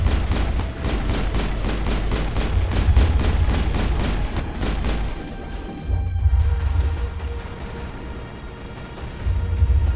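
Rapid automatic gunfire from the video game Mass Effect on Insanity difficulty, a loud sustained burst of shots for about five seconds, then scattered heavy impacts and rumbling explosions continuing to the end.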